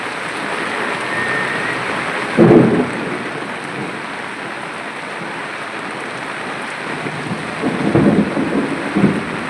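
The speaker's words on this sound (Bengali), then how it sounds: "প্রচুর বৃষ্টি নামছে আলহামদুলিল্লাহ" Heavy rain in Dhaka pours steadily as thunder rumbles twice, once briefly early on and again in a longer roll near the end.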